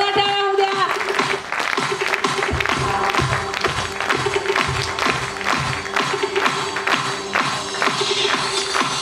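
An audience at a New Year 2024 celebration party claps loudly, with dense, rapid applause filling the room throughout, and a voice speaking over it at the start.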